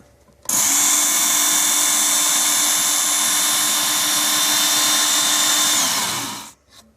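WorkSharp Ken Onion belt sharpener grinding a knife blade: a loud, close, steady high-pitched motor whine with abrasive belt hiss, starting abruptly, holding for about six seconds, then spinning down.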